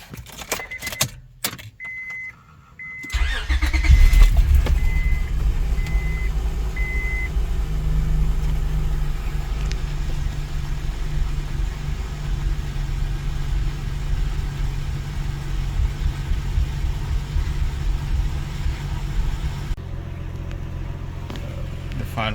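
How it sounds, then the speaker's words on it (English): A 2003 Acura TL with a newly replaced radiator starts up after a jingle of keys, then settles into a steady idle hum that continues evenly, with a brief chime of warning beeps near the start. "Now we are going to start the car."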